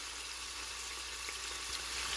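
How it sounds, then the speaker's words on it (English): Large bony oxtail pieces sauté in a pan with a faint, even hiss of sizzling fat that holds steady, with no voices. "I'm gonna go ahead and let these fully saute"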